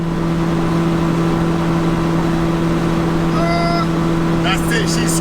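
A Skoda with a 1.6T engine runs flat out on the autobahn, a loud steady high-pitched engine drone with strong constant tones and road roar filling the cabin, with brief faint voices near the end.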